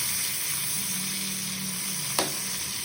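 Pieces of rui fish roe frying in hot oil in a pan, giving a steady close sizzle with one brief sharp crackle near the end and no talk.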